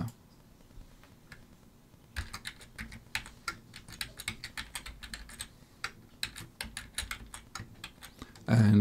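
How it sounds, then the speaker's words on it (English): Computer keyboard typing in irregular bursts of clicks, a short pause, then steady keystrokes through most of the stretch at close range, with a louder thump of other noise right at the end. "So I have to type it out."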